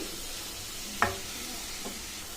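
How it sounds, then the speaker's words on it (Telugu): Grated radish stirred in a hot pan, a soft continuous sizzle with a single clear scrape of the spoon and a fainter second stroke. "ముల్లంగిలోని పచ్చివాసన పోయే వరకు ఒకసారి మనం కలుపుకొని పెట్టుకోవాలి"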